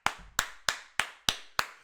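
Six sharp hand claps sound close by, evenly spaced at a steady, slightly slow beat, each one crisp and quickly decaying, with nothing else around them.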